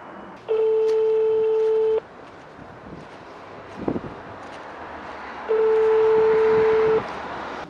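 A telephone rings out unanswered, two long steady ring tones about a second and a half each separated by a pause, loud and close over faint outdoor background noise.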